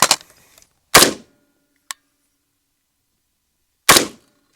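Rifle shots firing 77 grain ammunition, three sharp loud cracks spaced about a second and three seconds apart with quick decay, plus a faint metallic click between them.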